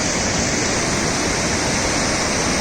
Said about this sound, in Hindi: संगम के पास नदी का वेग कितना अधिक बढ़ जाता है।